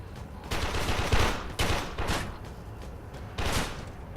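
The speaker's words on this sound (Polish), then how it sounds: "No i tak wygląda strzelanie." Gunfire in the video game Warframe comes in several loud bursts of rapid shots, each lasting under a second, separated by short pauses over a low background hum.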